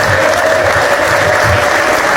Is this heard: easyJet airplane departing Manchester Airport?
no